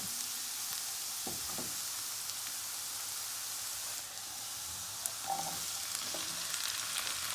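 A pot of hot oil gives a loud, steady frying hiss as beans go in, with a few soft clunks and stirring sounds beneath it, heard up close.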